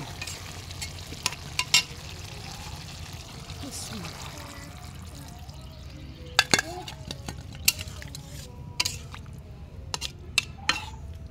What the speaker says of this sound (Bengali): হালকা ভাইজা নিচ্ছি